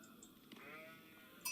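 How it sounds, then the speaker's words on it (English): Sheep bleating in the video game Age of Empires 4, a short, faint in-game bleat amid soft background game sounds, ending with a brief sharper effect. "And we pick up a couple sheep."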